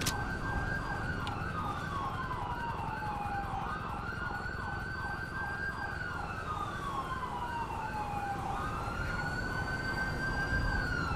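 A wailing ambulance siren sweeps up and down continuously in the GTA V LSPDFR police game, loud and steady over a low rumble of road noise, with no talk.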